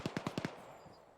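A quick burst of five sharp gunshots from ArmA 3 infantry combat, evenly spaced and loud at first, then a faint tail of distant reports and quiet background.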